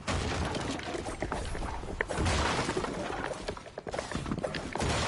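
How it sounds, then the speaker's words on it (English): Dense crashing and smashing in a video game as nearby players break structures, continuous loud impacts and debris without talk. "They're both breaking stuff."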